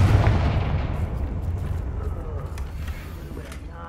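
A Confringo spell explodes in Hogwarts Legacy, opening with a loud low boom that rolls into a long, slowly fading rumble over roughly four seconds.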